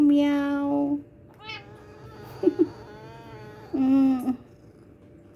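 A pet cat meows loudly and close in long drawn-out cries, about three of them with short pauses between, while a person talks and playfully imitates the meowing.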